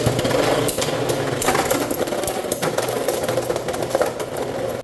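Beyblade X spinning tops clash repeatedly inside a stadium, a dense, loud stream of metallic rattling and sharp hits with no pauses, close to the microphone.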